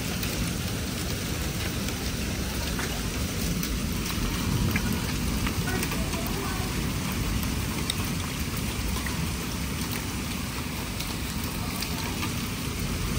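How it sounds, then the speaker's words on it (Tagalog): Hail and heavy rain pour down steadily and loudly outdoors, a dense continuous patter of drops and ice striking surfaces with no talking over it. "Lalaki ng yelo."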